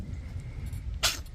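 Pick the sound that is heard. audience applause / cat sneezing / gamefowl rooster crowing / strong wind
cat sneezing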